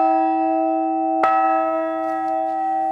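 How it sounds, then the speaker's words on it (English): A modern harmonically tuned church bell rings out: a sustained, shimmering hum with one sharp new strike partway through that renews the ringing, loud and close with no voices. "this bell is a modern harmonically tuned bell"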